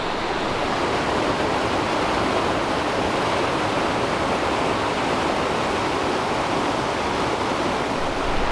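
A loud, constant roar of falling water at Mystic Falls near West Yellowstone fills the scene, dense and unbroken with no voices.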